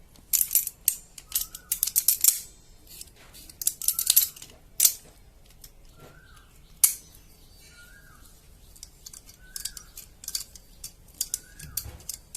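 Rusted bicycle axle nut being loosened with a tool, with close metallic ratcheting clicks, scrapes and grinding in irregular bursts, and a few faint short squeaks between them.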